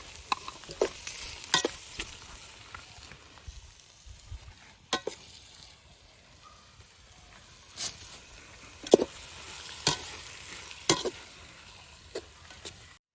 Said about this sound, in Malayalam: നന്നായി ഒന്ന് വഴറ്റി കൊടുക്കാം. അതിൻ്റെ ഒരു പച്ചമണം മാറുന്ന വരെ വഴറ്റാം.